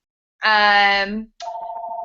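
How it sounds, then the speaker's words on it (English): A phone rings in another room: a loud, rich electronic tone sounds for about a second, then a steadier, thinner ringing tone continues to the end. "Of course, my phone rings, and it's in the other room too, and I can't get it."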